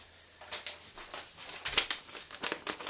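A Spyderco Byrd Meadowlark Hawkbill knife cuts through something with quiet, crinkly slicing strokes in short uneven bursts, close by in an otherwise hushed setting.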